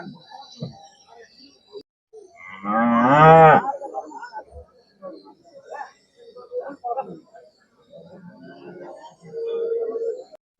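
Cattle at a crowded cow market call out with one loud, drawn-out moo and a few fainter lowing sounds, mixed with nearby talk and general market noise.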